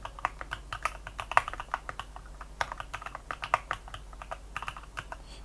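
Typing on an AJAZZ AK680 mechanical gaming keyboard produces a quiet, close, irregular stream of crisp key clicks with a few louder strikes, and no voice over it.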